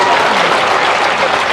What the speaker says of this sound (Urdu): ارے کم سے کم تالی تو لگائیں آپ۔